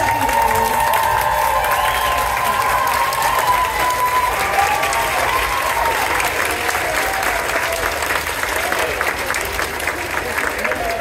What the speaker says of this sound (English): another round of applause for our amazing second graders